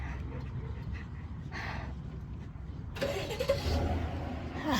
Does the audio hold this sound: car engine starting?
yes